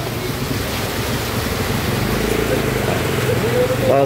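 Heavy rain pours outdoors as a loud, steady roar of dense wash, with a voice heard over it.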